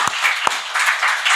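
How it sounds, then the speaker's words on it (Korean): A church congregation breaks into applause for its students and young people, a short burst of scattered hand clapping with a few sharp individual claps standing out over a steady crackle. "우리 학생 청년들 박수 좀 쳐주세요"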